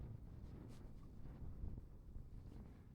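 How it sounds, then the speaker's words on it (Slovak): Steady wind buffeting the microphone on a winter mountain hike near Krížna peak in the Veľká Fatra range, a continuous low rumbling roar with slight gusts and no talking. "Za chvíľu sme na Krížnej a začína nám dobre fúkať."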